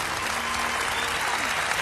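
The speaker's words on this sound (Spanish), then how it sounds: "El Lore Gabón, un aplauso para ella." A television debate studio audience claps, a dense, continuous wash of applause at moderate level, with a faint voice briefly audible underneath.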